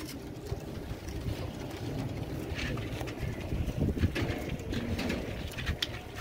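Large, oversized Teddy pigeons coo softly amid wind noise and outdoor background rumble, the low calls continuing throughout.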